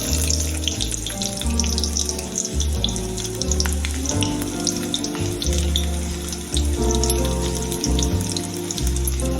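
Onions frying in a pan for a Telugu home-style kakarakaya (bitter gourd) dish give a steady, continuous sizzle that runs throughout, with a layer of repeating tonal background sound beneath it.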